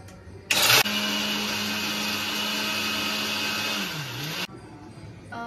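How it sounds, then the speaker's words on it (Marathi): A mixer grinder whirs loudly for several seconds as it grinds pieces for churma ladoo finely, its motor pitch dipping briefly before it cuts off abruptly. "आता जे आपण तुकडे करून घेतले होते ते आपण आता मिक्सरला बारीक करून घेणार आहोत"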